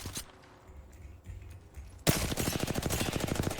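Gunfire in the video game Apex Legends: a sudden loud burst of rapid automatic shots with a fast, even rhythm, preceded by about two seconds of quiet game ambience.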